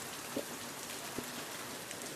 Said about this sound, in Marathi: पाऊस बघा किती पडतो बघा